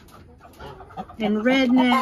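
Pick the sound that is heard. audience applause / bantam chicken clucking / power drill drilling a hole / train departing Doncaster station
bantam chicken clucking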